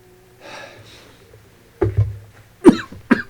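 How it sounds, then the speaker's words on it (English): A person coughs several times in sharp, close bursts after a stretch of quiet breathing and faint rustling, with no talk in between. "Yeah, I am coughing."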